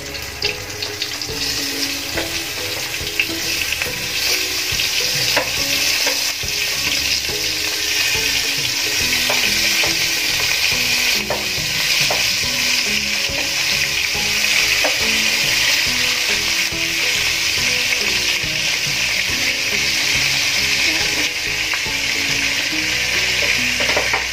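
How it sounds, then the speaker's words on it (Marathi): Stuffed eggplants sizzling in a generous amount of hot oil for a Maharashtrian bharli vangi curry, a dense, continuous crackling fry that stays loud and steady throughout with no talking. "आता आपण ही वांगी ह्याच्यामध्ये सोडून देऊ। मी तेल थोडं जास्त घेतलंय।"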